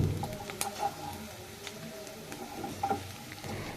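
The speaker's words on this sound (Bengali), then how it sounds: "আমি পেঁয়াজটাকে নাড়াচাড়া করে নিচ্ছি" Onions sizzle in a pan for an eggplant dish while a utensil stirs them, with repeated scraping strokes and bursts of crackle over a steady low frying hiss.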